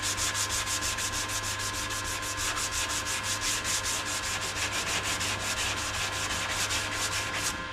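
Car body filler on a Mini Cooper D panel being sanded with a sanding block, a close, loud, rhythmic rasping stroke repeated back and forth at an even pace with no pauses.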